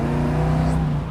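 A 1971 Chevrolet Camaro engine pulling hard, a brief loud steady drone of the motor under acceleration, close and alone without speech.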